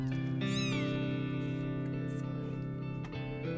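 Thin, high meows of newborn Maine Coon kittens rise over a steady loud hum, with a few short cries close by.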